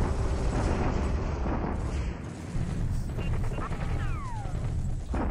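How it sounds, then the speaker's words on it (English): Rumbling bombardment blasts in a WWII strategy war game set in the Pacific, 1942, forming a dense, continuous roar of booms and distant explosions with a brief whistling sweep near the end. "Bombarding us again."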